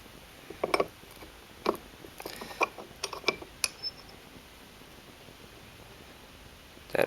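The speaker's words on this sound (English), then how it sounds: "take your adjustable wrench and finish tightening it the rest of the way until it's snug" Metallic clicks and small clanks from an adjustable wrench snugging down a Delta faucet part during a repair, several short irregular taps spread over a few seconds, close and fairly quiet.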